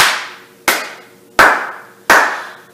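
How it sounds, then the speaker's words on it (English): Children clapping hands together, four sharp, evenly spaced claps, loud and close, each with a short ringing tail. "And let's keep clapping our hands."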